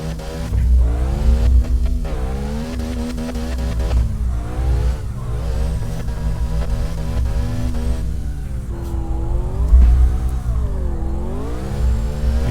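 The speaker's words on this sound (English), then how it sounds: "I do remember this is an easy car to drift." A drifting car in the CarX racing video game, played with a steering wheel, revs continuously with its engine rising and falling in pitch, loud and unbroken throughout.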